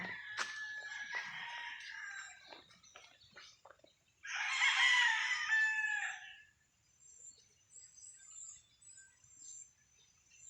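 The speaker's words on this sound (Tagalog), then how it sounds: "Daming mga manok dito guys" Chickens cluck nearby while a rooster crows in the middle, fairly faint overall, with scattered bird calls around them.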